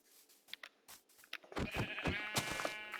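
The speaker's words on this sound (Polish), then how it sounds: "O, jest pierwsza owca." A sheep bleats in the Minecraft video game: after a few short clicks and taps, a loud, wavering, nasal bleat stretches close up across the second half, with no talk.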